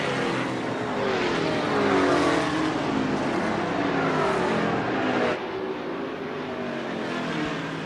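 Open-wheel modified race cars circle a track on warm-up hot laps before a heat race, engines roaring loudly and continuously with steady revving and no breaks.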